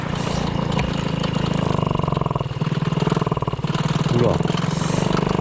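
An MBK 40 moped engine starts and runs at a rough, buzzy idle with a throttle blip partway through. It is close and loud, and someone speaks briefly over it.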